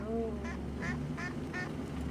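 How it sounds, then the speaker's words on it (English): Young ducks in a remote rural village quack four times in a short evenly spaced series, clear and close over a steady background rumble. "These ducks aren't very bright yet."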